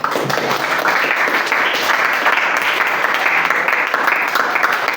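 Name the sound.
classroom applause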